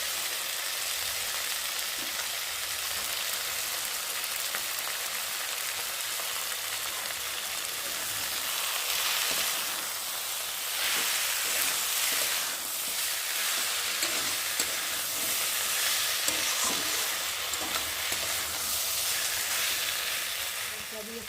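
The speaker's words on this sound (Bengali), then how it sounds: "আলু বেগুনটাকে ভালো করে কষিয়ে নিয়েছি" Potato and eggplant fry with tomatoes in a pan, a continuous close sizzle broken by the repeated scrape and clatter of stirring, fairly quiet and steady throughout.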